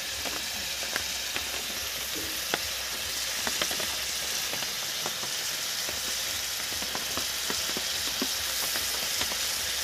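Green peas fry in a pan for a rui fish kalia, giving a soft, continuous sizzle scattered with small pops and crackles, fairly quiet and without any talking.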